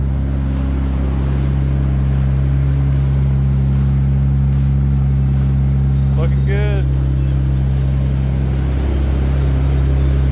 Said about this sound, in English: Man, this car is loud with the door shut.